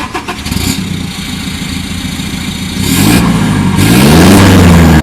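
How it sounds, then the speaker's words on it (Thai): A 2019 Toyota Hilux Revo Z Edition with a 2.4-litre diesel engine and aftermarket exhaust revs twice, each blip rising in pitch and getting louder, after a short start-up, close and alone with no voices. "คันนี้นะคะใส่ท่อแต่งให้ด้วยไปฟังเสียงกัน"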